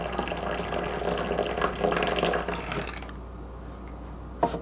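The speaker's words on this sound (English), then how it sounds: "hot water." Hot water poured into a glass pot of yogurt layered with jelly, chestnut paste and Nutella, a steady close pouring and splashing that stops abruptly, followed by a brief clink near the end.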